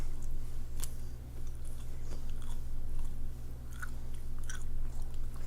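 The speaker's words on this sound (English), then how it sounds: "That's why I'm chewing with my mouth open" A person chewing food with mouth open, producing scattered wet smacking and crunching clicks close to the microphone over a steady low hum, with no talking.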